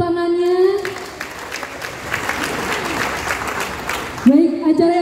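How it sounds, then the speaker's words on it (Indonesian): Audience applause at an on-stage support declaration event, a dense burst of clapping that starts just under a second in and runs steadily for about three and a half seconds, with a voice speaking before and after. "Boleh minta tepuk tangannya."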